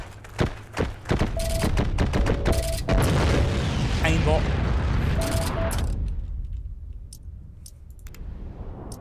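Gunfire in the World War II online shooter Heroes and Generals, a rapid string of loud close shots and thuds that thins out and fades near the end, with voices underneath.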